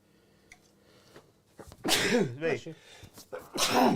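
A voice loudly imitates a sneeze twice, close to the microphone, with a few quiet clicks and rustles before it.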